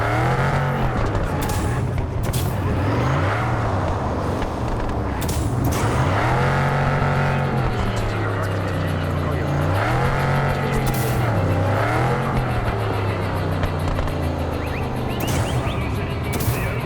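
Muscle car driving in Cyberpunk 2077, its engine rumbling loudly and continuously with rising and falling revs as it accelerates and shifts, close up with faint background sound.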